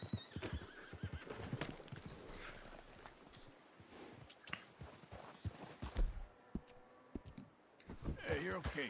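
A horse in Red Dead Redemption 2 clops along with quick hoofbeats and lets out a loud whinny, while someone talks over it.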